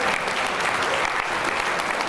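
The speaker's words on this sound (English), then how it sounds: "Round of applause." Guests at a city's State of the City dinner give a round of applause, a full, steady burst of many hands clapping with faint crowd murmur beneath.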